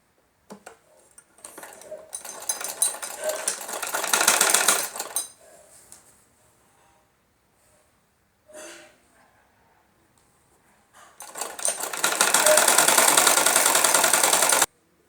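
Sewing machine stitching a belt-style salwar, running in two long loud bursts of rapid mechanical whirring with a brief clunk between them.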